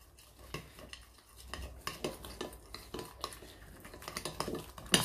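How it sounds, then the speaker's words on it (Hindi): A spoon stirs chicken marinade made with yogurt in a bowl, steady scraping and light clinks of metal against the dish, close and soft, in a continuous rhythmic run. "इसको इसी से ही करते हैं हम मिक्स।"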